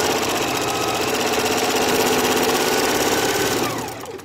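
A sewing machine runs fast and loud at close range while stitching a quarter-inch seam, with a steady rapid needle chatter throughout before it slows and stops at the end.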